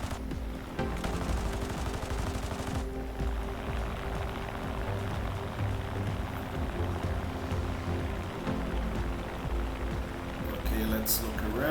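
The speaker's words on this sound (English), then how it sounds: "Let me see if I can strafe some ground targets in here." Aircraft machine guns in War Thunder fire long, dense bursts while strafing ground targets, a continuous rattling roar over engine noise, with a voice talking underneath.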